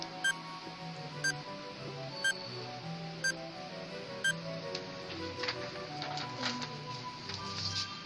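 A countdown timer sound effect ticks out five sharp, evenly spaced beeps about one second apart over quiet background music, followed by a busier flurry of bright chimes near the end.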